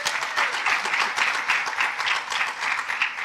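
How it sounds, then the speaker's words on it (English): A room full of people claps to welcome student presenters at a university teaching event, a continuous, moderately loud burst of many hands with a fairly even rhythm and no talking. "please, round of applause"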